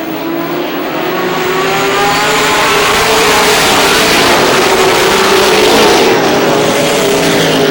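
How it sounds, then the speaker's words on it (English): Race cars at Star Speedway in New Hampshire roar loudly and continuously as engines rev hard and stay close, a dense pack sound with rising engine pitch and no talk over it. "Duncan Miller in the 99 and Billy McCarthy go wheel to wheel for second."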